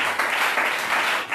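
A church congregation applauds, a brief, steady wash of many hands clapping close by, filling the whole moment without talk.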